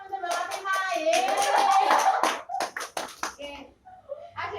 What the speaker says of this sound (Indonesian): Tepuk tangan untuk Mbak Fatimah